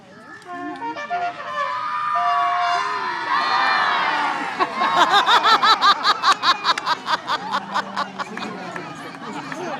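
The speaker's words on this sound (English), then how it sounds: "Everybody, are you ready to yell charge?" A group of children shouts together in a loud, building crowd yell that breaks into rhythmic rapid cheering pulses, with excited chatter and laughter around it.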